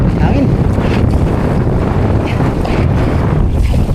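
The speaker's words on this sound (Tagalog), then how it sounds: "Malakas ang hangin." Strong wind buffets the microphone on a small fishing boat out at sea, a loud continuous roar with gusts mixed with wave and water noise.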